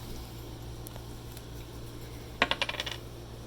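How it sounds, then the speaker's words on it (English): Dice rolled during a second-grade math lesson: a quick burst of five or six small clattering hits as the dice tumble and settle, fairly close, over a steady low hum, with no talking. "So let me start by rolling our dice."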